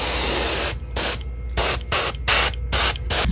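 Spray gun laying down a base coat of paint on a tomato hornworm pattern, loud steady hissing bursts of about half a second each, broken by short pauses in a quick on-off rhythm.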